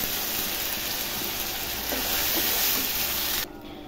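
Ginger and garlic paste sizzle in oil alongside onion paste and fried hog plums for an egg malai curry, a close, even frying hiss with light stirring taps that cuts off near the end.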